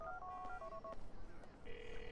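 In the GTA IV video game, a mobile phone is dialed: a quick series of beeping keypad tones, then a pause and a steady ringing tone, heard at low level.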